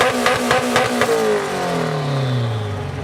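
Cars roll into a university car show, an engine revving hard in a few quick blips and then accelerating away with a pitch that glides down as it passes, loud and close.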